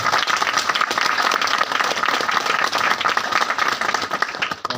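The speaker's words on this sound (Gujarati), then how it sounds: "તો એના માટે પણ એકવાર જોરદાર તાળી." An audience at a seminar breaks into dense, enthusiastic applause, many hands clapping together in a continuous crackling roar that fades slightly at the end.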